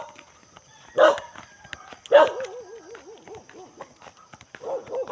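Dogs bark twice in loud separate bursts about a second apart outdoors on a rural fishing trip, followed by a wavering howl-like yelp and later faint further barking, with no speech over it.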